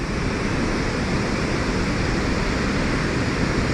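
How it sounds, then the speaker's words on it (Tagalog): Cascade Falls in British Columbia, swollen by snowmelt, roars as a steady, dense wash of rushing water, loud and unbroken throughout with no voices. "So karon kusog-kusog ang tubig kay tungod sa snow nga na melt."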